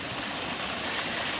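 Water rushing over a waterfall in a rocky ravine, a dense continuous roar close by with no break or voices.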